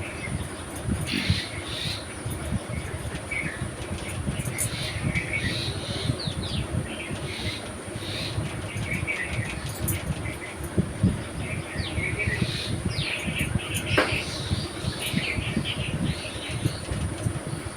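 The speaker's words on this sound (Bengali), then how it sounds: "পাখির আওয়াজগুলো কিন্তু বেশ ভালোই লাগছে না?" Birds chirp and twitter on and off throughout, high and fairly faint, over a steady low rumbling background that never lets up.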